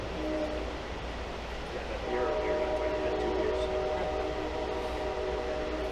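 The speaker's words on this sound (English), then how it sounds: "we're rolling into the station at Columbus, Wisconsin" An Amtrak Empire Builder passenger train rolls steadily into the station at Columbus, Wisconsin, with a continuous rumble of wheels heard from inside the car and faint sustained squealing tones rising midway, no talk.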